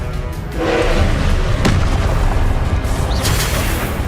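Confringo blasting spells going off in Hogwarts Legacy, a deep rumbling boom that swells after a brief quiet start and keeps rolling, with a couple of sharp cracks riding on the loud, sustained blast.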